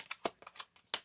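A deck of tarot cards is shuffled close up, giving a quick series of soft riffling, crisp flicks over about a second.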